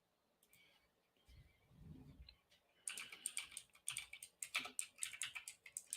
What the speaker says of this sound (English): this is me typing for